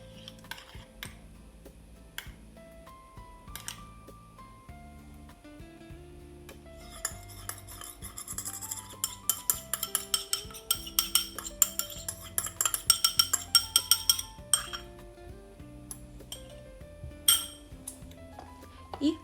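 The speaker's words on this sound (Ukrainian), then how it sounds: "Перемішаємо і додаємо розчинений цукор в сметані" A spoon stirring baking powder into dough mixture for sweet pastries, bright clinks and scrapes of metal against a bowl that grow busier and more rhythmic midway, close and clear with no talking.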